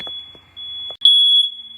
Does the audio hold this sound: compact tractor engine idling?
no